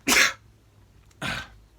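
Two short, explosive bursts of breath about a second apart, the first louder, heard close up with no talking, like a sneeze and a smaller follow-up.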